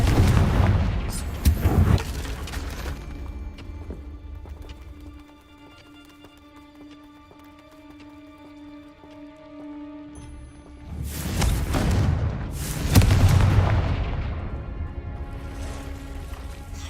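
Confringo explosive spell blasts in the Hogwarts Legacy video game, loud booming bursts at the start and again near the end, separated by a quieter stretch of faint tonal game ambience.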